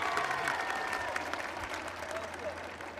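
An audience at a university commencement claps in a soft, steady round of applause heard from some distance, fading slightly toward the end.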